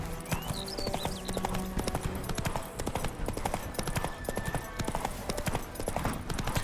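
Hooves of Geralt's horse Roach clop in a steady, rapid trotting rhythm through The Witcher 3, close and continuous, with a brief whinny near the start and faint ambient game sounds underneath.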